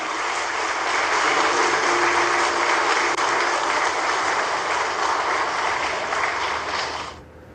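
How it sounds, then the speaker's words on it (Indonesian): A full hall of guests applauds at an Indonesian official ceremony after a gong-striking: thick, sustained clapping at a strong even level that fades out and stops near the end. "tepuk tangan yang meriah"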